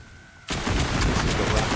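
A shotgun fires in a video game still in development: one sharp, loud blast cuts in after a moment of quiet, then a dense, rapid crackle of repeated shots carries on to the end.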